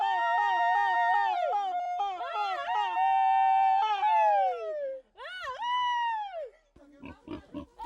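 Pigs squealing in a highland village, loud drawn-out high-pitched cries repeated in close succession, ending with shorter grunting squeals.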